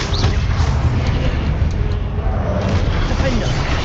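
A Confringo spell explosion in Hogwarts Legacy, a dense sustained boom and roar filling the whole moment, loud and close, with a voice casting the spell.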